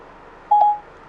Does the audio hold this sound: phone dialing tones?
yes